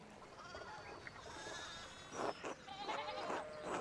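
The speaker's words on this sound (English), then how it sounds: "One of the fence rails fell and the sheep started hopping it." Several sheep bleat in the video game Pentiment, short wavering calls coming in quick succession and growing louder toward the end over a quiet background.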